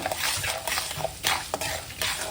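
Mustard seeds and cumin crackle in hot oil for a tempering, with irregular sharp pops and a steady sizzle over a short stretch, close and moderately loud, with no talking.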